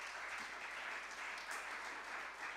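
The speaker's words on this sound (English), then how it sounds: "give them a round of applause" Steady audience applause at a secondary school debate competition, dense crowd clapping sustained for the whole stretch at a moderately near distance, with no talking over it.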